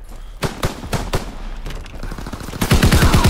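Rapid gunfire rings out in Call of Duty WWII multiplayer. Scattered sharp shots come first, then a dense automatic burst near the end, all loud and close.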